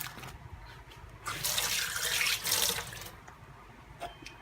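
Tap water runs into a container while cleaning a microwave, a close, hissing gush that swells in the middle and then eases off, with no talk over it.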